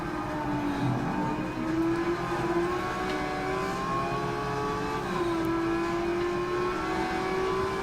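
A race car engine in a racing video game revs steadily throughout, its tone sliding up and down with gear changes and throttle, loud and continuous with no talking.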